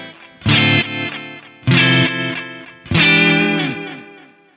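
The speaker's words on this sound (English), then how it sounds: "You have that really filtered echo, but it's swelling in very slightly with the ducker there." Korg Toneworks 301dl delay pedal set to a filtered echo with the ducker engaged: three loud sustained chords ring out, each followed by a thin, muffled echo that swells in softly behind it, with no voices.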